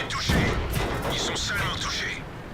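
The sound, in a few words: tank cannon shots and hits in a tank video game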